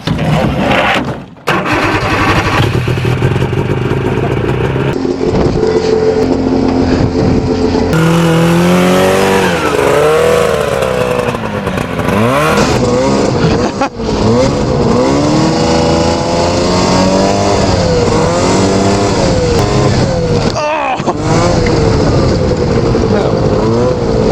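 A 50-year-old vintage twin-track Raider snowmobile engine roars through a test ride, loud and near, revving up and down in continuous surges with a few brief cut-outs.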